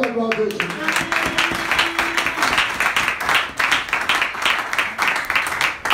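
Congregation clapping during a church service, a dense run of claps building after a brief voice at the start and continuing steadily to the end.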